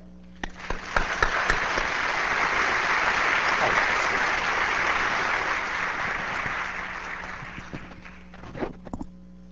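A lecture-hall audience at a 1998 symposium on Engelbart's work claps to welcome a speaker, steady sustained applause from many hands swelling and holding for several seconds before thinning into a few scattered claps.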